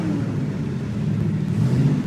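A 1968 Chevrolet Chevelle SS 396 V8 gives a steady, deep, close rumble throughout, loud and unbroken with no talk.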